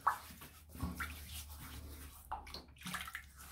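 Water splashes and sloshes as hands scoop it from a running tap to wet the face before a safety razor shave, with several uneven splashes and trickles at close range.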